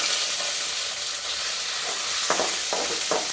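Onions hit hot oil in a pan for a Tamil drumstick-leaf stir-fry, giving a loud, steady close sizzle with a few sharp bursts near the end, no voices.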